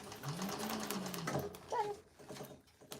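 A sewing machine stitches the seam of a Betty Bowler bag, a quiet, steady mechanical whirr with faint rattling and a brief pitch shift near the end as the stitching slows.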